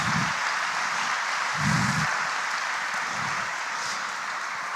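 A congregation applauding the Lord during a church sermon, loud sustained clapping from a crowd throughout, with a few low murmurs or shouts rising beneath it.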